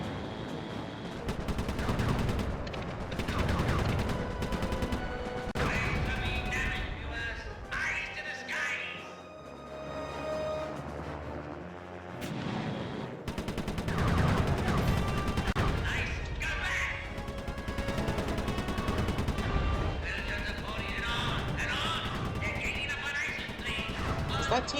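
Gunfire from shooting in the video game Sly 3, with rapid repeated shots and crashes mixed with game music and effects, fairly loud and steady, while a person talks over it at times.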